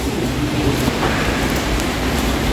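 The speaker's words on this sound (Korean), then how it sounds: "비는 주룩주룩 오는데" Heavy rain pours onto a street in a continuous, loud hiss with occasional traffic rumble underneath and no speech.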